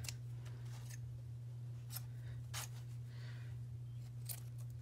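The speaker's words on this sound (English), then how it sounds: "kind of go through and cut off some of that excess" Scissors snipping away excess paper from the pages of an altered book junk journal, a few sharp separate cuts spread across the clip over a steady low hum, no talking.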